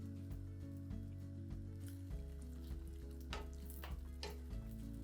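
Bread cubes, plump raisins and pine nuts frying in a pan give off a steady close sizzle with soft stirring scrapes and occasional crackles, no talk over it.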